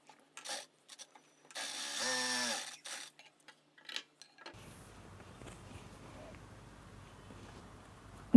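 A sewing machine stitching a 36-size blouse runs in one short whirring burst of a second or so, with light handling taps before and after, then a low background hum.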